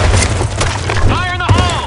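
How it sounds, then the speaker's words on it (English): Grenade explosion in the shooter game Blackshot, booming amid rapid gunfire in a sandstorm map, with a sharp blast near the end and game voices calling out over the action. "Grenade! Fire in the hole!"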